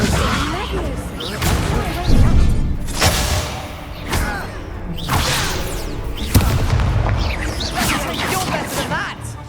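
Spells such as Incendio and Leviosa cast in the Hogwarts Legacy video game: repeated booming bursts and heavy thuds roughly every two seconds over a busy background of game sound and voices.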